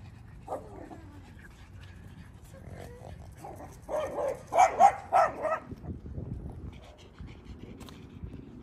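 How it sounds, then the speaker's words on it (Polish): A pet dog indoors, panting and letting out a few short, close barks and whimpering yips in a brief cluster midway, with a voice talking around it. "A to jest moje psie dziecko"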